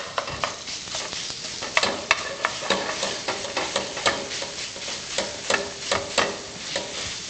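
Pork frying hard in a wok, with a loud continuous sizzle and repeated clanking, scraping strokes as it is tossed and stirred.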